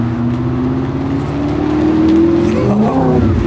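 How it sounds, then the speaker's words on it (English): A supercharged 2008 Audi R8 Gen 1 with a BES supercharger revs steadily and loudly up close, its engine note climbing and holding before shifting slightly in pitch. "Here it is, the Audi R8 Gen 1. This is a 2008, and here's the kicker. It's got a BES supercharger on it."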